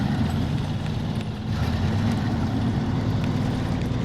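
A truck engine drones steadily while driving on a highway in a video game. The low, continuous rumble holds at an even, fairly loud level throughout, with no voices.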